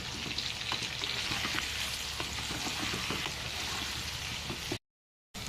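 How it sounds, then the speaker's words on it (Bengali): Whole small potatoes frying in oil with salt and chili powder for biryani, a continuous close sizzle with light crackles and occasional stirring, ending in a brief silence. "এবার আমি এর মধ্যে পরিমাণ মতো লবণ, কিছুটা লঙ্কার গুঁড়ো দিয়ে হালকা করে ফ্রাই করে নেব"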